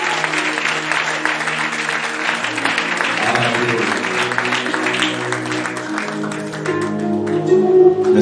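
A church congregation applauds loudly and steadily throughout a Sunday worship service, a dense sustained clapping with some voices mixed in.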